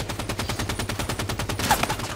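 Rapid automatic gunfire from Halo 5: Guardians multiplayer Breakout match, a steady stream of close, loud shots in quick even rhythm for a couple of seconds with no talking.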